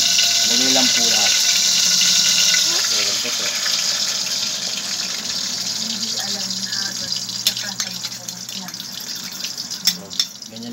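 Egg mixed with Lucky Me instant noodles fries in a hot pan, giving a steady, close sizzling hiss throughout while a person talks over it.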